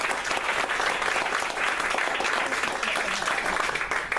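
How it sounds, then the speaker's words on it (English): An audience at a candidate forum for a Port Angeles school board seat claps steadily throughout, a dense, even roar of hands filling the room. "they deserve a round of applause for that."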